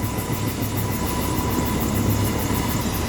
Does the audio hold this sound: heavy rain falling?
no